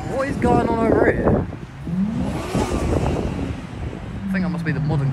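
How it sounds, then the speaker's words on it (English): Modern cars rev their engines at an outdoor car show in the rain, rising and falling engine whines, with people talking nearby. "I think that must be the modern cars making woom-woom noises."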